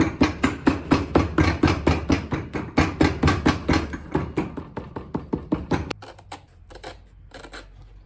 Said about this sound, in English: we just need to take a hammer, give it a whack,